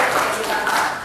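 Audience clapping for the MPR at a university campus event, a dense, steady wash of many hands clapping at once, loud and continuous throughout.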